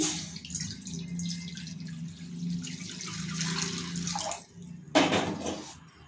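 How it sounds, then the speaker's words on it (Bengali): Water poured into a kadai (wok) for a cabbage fry, a steady splashing and trickling stream that runs for about four seconds, breaks off briefly, then resumes loudly near the end. "আমি কড়াতে প্রথমে জল দিয়ে দিচ্ছি।"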